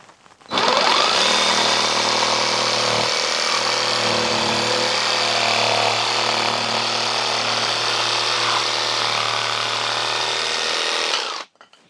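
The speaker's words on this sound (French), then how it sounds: "Voyons maintenant ce que donne cette machine en commençant par une petite pièce de médium, donc de 18 mm d'épaisseur" A Worx WX543 cordless jigsaw at maximum speed, pendulum action off, cuts through 18 mm MDF with a loud, steady buzzing whine that starts abruptly, holds for about eleven seconds and stops.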